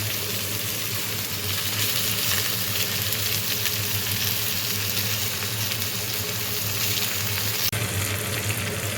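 Malabar spinach stems stir-frying in a pan with salt, producing a dense, continuous close sizzle with occasional soft stirring scrapes throughout.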